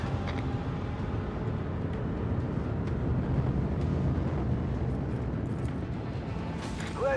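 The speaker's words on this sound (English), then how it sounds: "Engage the engines." Starship engines in the video game Warhammer 40,000: Rogue Trader engage with a deep, steady rumbling roar that holds at a constant level throughout, with faint higher tones flickering above it.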